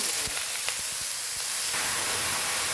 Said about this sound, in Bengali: দুটো শুকনো লঙ্কা ফোড়ন দিলাম, কালো জিরে ফোড়ন দিলাম, এবার চাল কুমড়োটা